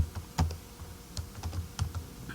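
Keys tapped on a computer keyboard while entering duplicate numbers into an Excel 2013 spreadsheet, light irregular clicks at close range, quiet, with no talking.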